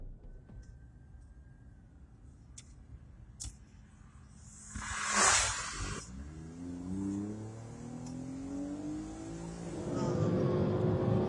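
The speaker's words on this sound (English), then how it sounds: "floored the car to 150 miles an hour" A car engine roars and revs up as it speeds toward 150 mph in a police chase, with a burst of hissing rush midway and a rising engine whine building toward the end.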